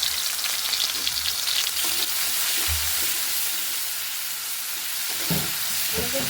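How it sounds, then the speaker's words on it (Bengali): Spices sizzling in hot oil in a pan, the opening step of a dish of shrimp legs with Malabar spinach and its fruits; a steady, close frying hiss with occasional stirring clatter, no voice. "তেলের ভিতরে আমি মশলাটা দিয়ে দিচ্ছি।"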